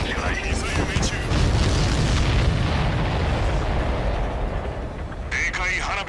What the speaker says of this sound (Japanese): ミサイル命中。